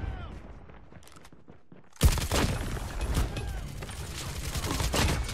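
Gunfire in a video game shooter, a ranked match with the KN44: quiet at first, then a sudden loud burst of sustained, crackling shots that keeps going to the end.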